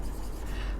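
Pen writing on paper while an accounting entry is noted down, with a steady close scratching and rubbing that runs on without a break and no voices.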